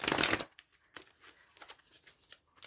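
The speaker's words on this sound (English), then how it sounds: "These cards are so big, they're so hard to shuffle." A quick, loud riffle of oversized cards shuffling, followed by softer scattered taps and slides as the cards are handled.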